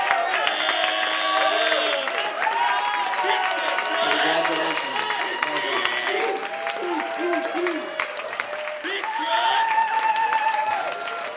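An awards-ceremony audience at a songwriter of the year event applauds and cheers for the performers and songwriters, a dense sustained wash of clapping with whoops and voices mixed in, loud and continuous throughout.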